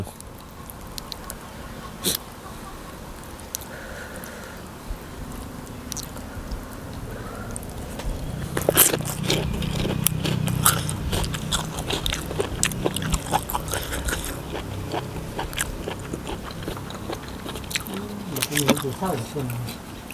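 Crunchy chewing of spicy Thai papaya salad with fermented fish sauce, a run of soft, close crunching and mouth sounds that thickens midway, fairly quiet with background noise.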